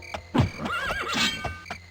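A horse in the video game Daggerfall Unity lets out a short, loud whinny, wavering up and down, with a soft hoof step at the start.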